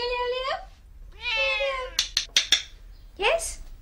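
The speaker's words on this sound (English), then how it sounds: "she's a wonderful little cat" A rescue house cat meows twice, long drawn-out calls close up, followed by a few sharp clicks or taps and a short rising meow at the end.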